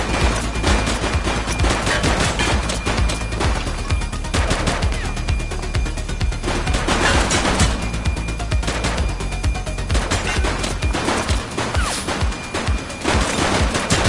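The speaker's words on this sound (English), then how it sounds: "She's shooting!" Dense, continuous gunfire from The Precinct video game fills the clip, with rapid bursts and sustained automatic fire sounding loud and close throughout, without any speech.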